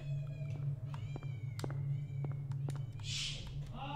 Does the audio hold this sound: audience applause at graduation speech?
no